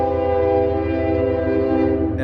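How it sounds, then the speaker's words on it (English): A loud, sustained train horn blares close by for the whole stretch as a train passes, its steady chord rumbling over the low roll of the rail cars, with no speech. "And I do apologize. That's the train."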